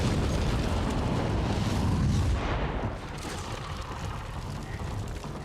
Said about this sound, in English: We're doing the explosion.